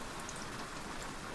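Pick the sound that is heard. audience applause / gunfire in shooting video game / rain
rain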